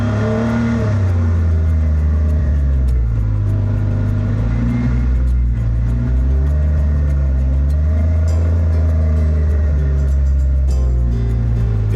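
A truck fitted with front and rear lockers revs hard while stuck in November snow, its wheels spinning; a loud, close engine drone rises and dips continuously with no voices over it.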